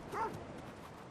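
A single short, soft bark from a dog in the folk horror card battler game The Killing Stone, quiet and brief over faint background ambience.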